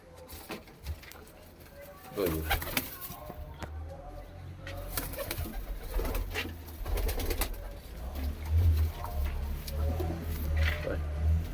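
Low, soft cooing of a Punjabi Malai Chhatri pigeon with long feathers and pale yellow eyes repeats through the clip, with rustling and scattered clicks around them.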